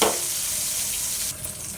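A tempering with curry leaves frying in hot oil in a pan for ridge gourd peel chutney, a loud dense hiss and sizzle held steady, then settling quieter near the end, close and without speech.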